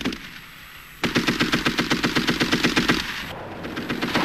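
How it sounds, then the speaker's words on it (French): A Maxim machine gun rated at 600 rounds per minute firing one sustained loud burst of rapid, evenly spaced shots after a second of quiet, with the shots trailing into echo near the end. "la mitrailleuse Maxim, 600 balles à la minute"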